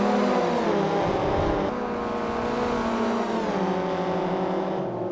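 BTCC touring cars racing bumper to bumper, a loud continuous engine drone with layered revving tones from several cars close together, pitch rising and falling through gear changes, with no voices.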